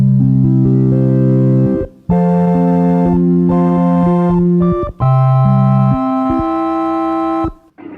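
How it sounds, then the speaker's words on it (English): Luigi Russolo's intonarumori, a futurist noise instrument, plays loud sustained droning tones that glide and step between pitches in several long phrases with brief breaks, heard alone. "What you're hearing right now is an intona rumori."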